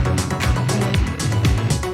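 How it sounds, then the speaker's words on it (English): Driving electronic score from the soundtrack for the film Challengers, with a pulsing low bass line and punchy rhythmic hits, loud and continuous with no voices. "it has a soundtrack that sounds like this"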